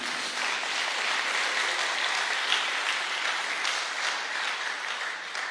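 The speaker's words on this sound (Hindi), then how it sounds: "जोरदार तालियां खुद के लिए" Sustained audience applause at a business training seminar fills the whole stretch, dense and steady at even loudness, with no voices above it.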